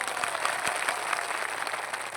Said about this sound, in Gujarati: અહીંયા જેટલા પણ પોલીસ અધિકારીઓ છે એમના માટે એકવાર જોરદાર તાળીઓ પાડ લો